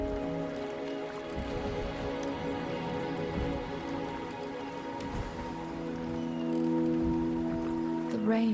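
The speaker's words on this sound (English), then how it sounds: "The rain is subsiding" Rain falls steadily in the Wuthering Waves video game, an even close patter with occasional drips over a soft, sustained tonal background.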